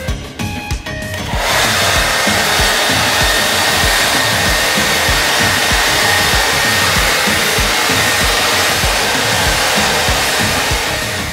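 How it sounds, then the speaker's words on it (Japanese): A hair dryer blows hot air to dry paint on an abstract canvas made with plastic wrap, a loud steady whirring roar that starts after a brief moment of quiet and runs on without a break. "そしたらドライヤーを使って完璧に乾かします"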